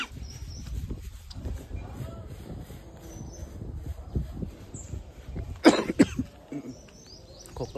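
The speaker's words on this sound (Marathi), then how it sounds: "खोकला आहे थोडं जास्त." A man coughs a few times in a quiet outdoor village setting, with a louder burst of coughing near the end and faint birdsong in the background.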